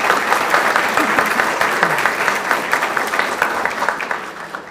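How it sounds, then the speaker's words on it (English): A banquet crowd at a scholarship dinner applauds a speaker, a dense, steady wash of clapping from many hands that fades slightly toward the end. "She deserves another round of applause."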